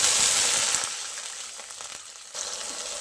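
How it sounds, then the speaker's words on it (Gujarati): Water poured into hot oil tempered with mustard seeds, curry leaves and green chillies for Surti sev khamani, giving a loud close sizzle at first that eases into softer crackling and bubbling, with a brief renewed burst near the end. "પાણી ઉમેરીશું."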